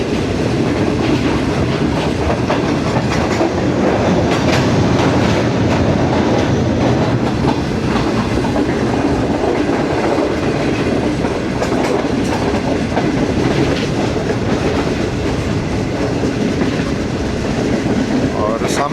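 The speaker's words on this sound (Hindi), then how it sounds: "दोस्तों ट्रेन हमारी नेशनल हाईवे N5 के ऊपर से गुजर रही है जी" An AC Standard carriage of the Pak Business Express rolls over the N5 highway bridge at night, giving a steady, loud, dense rumble with clickety-clack wheel beats throughout, heard from inside the train with a faint voice beneath.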